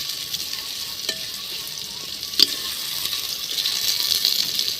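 Onions fry in a pan with a continuous bright sizzle, close and steady, broken by occasional sharp clicks and scrapes of a spatula stirring.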